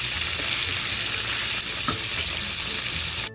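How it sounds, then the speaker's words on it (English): Lambi (conch) frying in a pan while being stirred for Haitian cooking, a steady loud sizzle with occasional scraping stir noises, close up and continuous. "Now we have our lumpy in the pan, and we are stirring"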